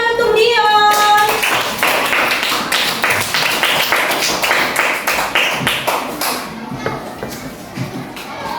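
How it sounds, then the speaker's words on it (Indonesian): Children in a classroom clapping together, a rapid burst of many hand claps that fades gradually over several seconds, with a brief high tone and some voices at the start. "Tepuk tangan untuk Dion."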